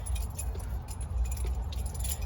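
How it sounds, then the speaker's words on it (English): A bunch of keys clipped to a belt loop on jeans jingles and rattles steadily at close range while the wearer walks up stairs, a continuous light metallic clinking. "I have my keys attached to my belt loops on my jeans here, so pardon the rattle"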